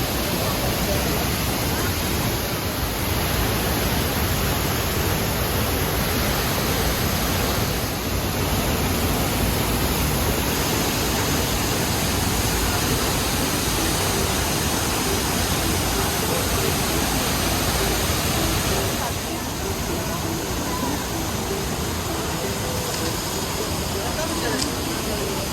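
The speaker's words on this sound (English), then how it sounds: "I'd suggest you listen to the sound for a couple of seconds" The Duden waterfall in Antalya, Turkey roars as a loud, constant rush of falling water, a steady broadband wash that fills the whole stretch without pause.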